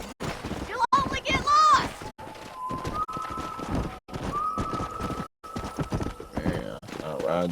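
Horse hooves clip-clop in a steady ride across a video game's open-world landscape, with a whinny and a tonal musical drone weaving through; voices shout over the hoofbeats.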